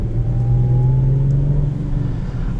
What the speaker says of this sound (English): with a supercharger, you don't lose any of the engine note